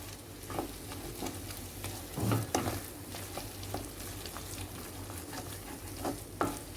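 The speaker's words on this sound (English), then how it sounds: "And I'm going to mix it very well." Shredded chicken macaroni is stirred in a pan, with a soft sizzle underneath and a scatter of light scraping and tapping from the spoon, fairly close and quiet.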